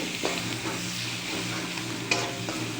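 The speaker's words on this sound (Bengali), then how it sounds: "এই যে একটু পরিমাণ মতো লবণ দিয়ে দিলাম, দিয়ে একটু নাড়ছি" Spices with salt are stirred in a sizzling cooking pan, a steady frying hiss with soft scraping stir strokes close by and no talk.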